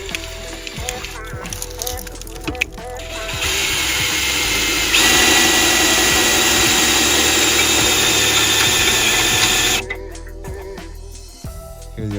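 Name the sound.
drill priming oil pump of Chevy 350 Vortec engine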